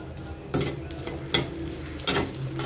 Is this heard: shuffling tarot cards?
no